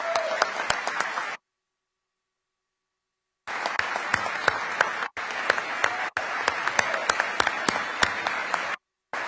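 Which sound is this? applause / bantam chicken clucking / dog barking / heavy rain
applause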